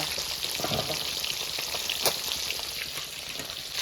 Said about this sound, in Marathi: दोन्ही साईडने असं चांगलं फ्राय करून घेतलं तर आता तुम्ही हे पाहू शकता फ्राय केलेले मासे